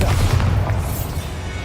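A Bombarda explosion spell in Hogwarts Legacy goes off as a short, dense, loud blast with a rumbling low-end boom that fills the whole moment.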